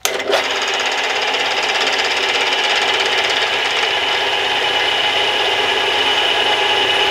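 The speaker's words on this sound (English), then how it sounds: "I'm gonna head over to the milling machine now and get drilling." A loud, steady high-pitched machine whine of a Warco round column mill drilling 6.8 mm holes in metal, running continuously after a brief start with no pauses and no voices.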